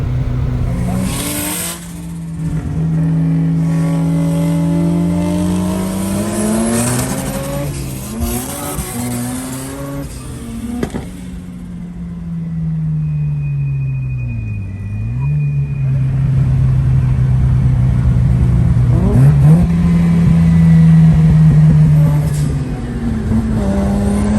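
A race car engine roars and revs loudly at close range, pitch rising and falling through gear changes, with tire noise and rumble throughout.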